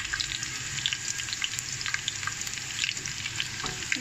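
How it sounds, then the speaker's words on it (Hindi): A small sliced onion sizzles steadily in half a cup of hot oil, a continuous close, bright crackle with small pops throughout and no talking. "इसको हम फ्राई करेंगे।"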